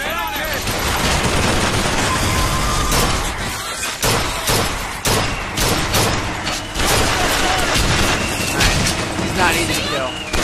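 Rapid bursts of popping, crackling blasts like fireworks fire continuously and loudly from an enemy in BioShock Infinite, with short pauses between volleys and a voice talking over them.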